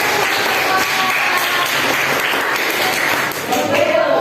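Schoolchildren in a classroom clap on a teacher's cue, a dense patter of hands mixed with lively young voices throughout.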